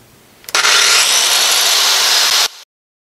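A heavy old circular saw starts up with a sudden loud motor whine that holds steady for about two seconds, then cuts off sharply and falls to silence.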